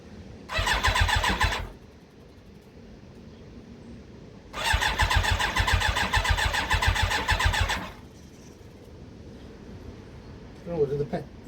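A Yamaha YZF Thunderace motorcycle engine is cranked in two loud, close bursts with no choke and a little throttle, the first about a second long and the second about three seconds, followed by a brief voice.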